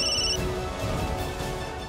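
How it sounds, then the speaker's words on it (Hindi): A phone ringtone plays loudly and close, its electronic melody sounding briefly before cutting out into a busy, noisy background. "अब क्या करें, ये तो हमको ही फोन कर रही है।"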